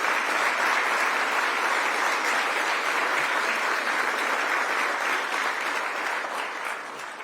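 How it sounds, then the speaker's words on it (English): Audience at the groundbreaking ceremony for a new runway at RDU airport gives a round of applause, a dense steady clapping that holds strong and then begins to thin at the end. "give all those folks, our elected officials, our staff, a round of applause for what they've achieved"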